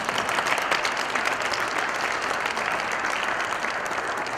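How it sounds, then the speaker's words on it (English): Sustained applause from an audience at a Maafa commemoration event, steady dense clapping throughout with no voices on top. "let's give Uncle Nee another round of applause"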